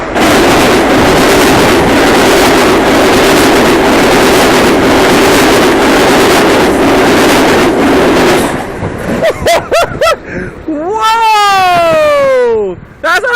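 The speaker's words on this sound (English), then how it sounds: "Oh, there comes the train, dude." A Metro-North M8 commuter train passing at high speed near Melrose, a loud roaring rush of wind and wheels for several seconds that cuts off abruptly, followed by sharp rising and falling horn-like tones.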